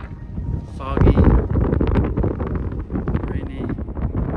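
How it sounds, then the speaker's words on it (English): Strong wind buffets the microphone on a foggy, rainy mountain pass in the Wind River Range, a steady loud roar with gusty surges throughout. "quite windy"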